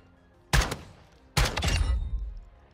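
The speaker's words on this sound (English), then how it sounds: "Yeah, I mean, it's a shotgun." Two heavy shotgun blasts ring out in a video game about a second apart, each a loud punchy report, the second followed by a longer rumbling tail, with no voices.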